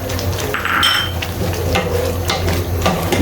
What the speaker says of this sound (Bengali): দিয়ে আমি কিছুক্ষণ নেড়ে নিচ্ছি